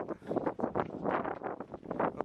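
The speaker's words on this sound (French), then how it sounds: "Et vu qu'il y a le vent qui souffle" Wind buffets the microphone in loud, continuous gusts in Cappadocia, Turkey, a rough roaring rush with no other clear sounds.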